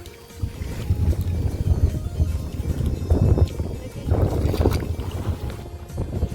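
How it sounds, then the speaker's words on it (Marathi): A small rowboat moves along a tidal creek on a fishing outing, with oar strokes splashing in a steady, repeating rhythm close by, over low, rumbling water and wind noise. No one speaks. "होडी चालवत आहेत"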